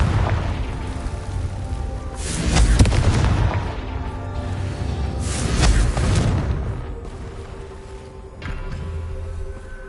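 Booming fire-spell blasts from the Confringo curse in Hogwarts Legacy, three or four heavy explosive bursts spaced a few seconds apart over a rumbling background of combat noise.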